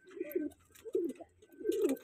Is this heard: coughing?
no